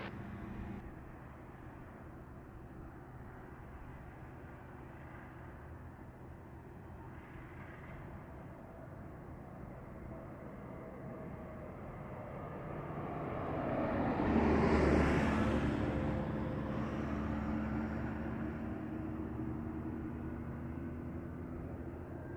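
A LATAM Airlines jet lands on runway 07 at Montego Bay airport in Jamaica, its engine roar swelling from distant to a loud peak mid-clip and then fading into a lingering rumble, under faint radio chatter.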